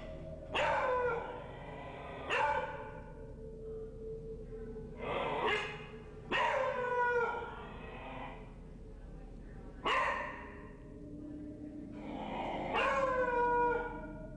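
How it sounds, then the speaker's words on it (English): A beagle barks and howls in loud repeated bursts indoors near a kitchen cupboard, with harsh drawn-out cries separated by short pauses and low growling beneath. "barking and growling at something unseen in the kitchen"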